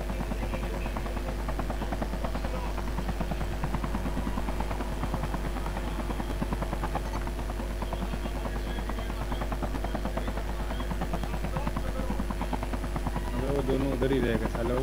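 A video game helicopter drones steadily with a continuous rotor thrum and buzzing engine hum throughout, loud and unbroken, with a player talking over it.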